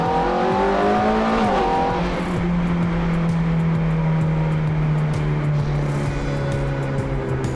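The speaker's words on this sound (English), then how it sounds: "And I love this sound of the exhaust" A Ferrari engine revs hard, then its pitch drops and settles into a loud, sustained exhaust drone, echoing off a ceiling in an enclosed space.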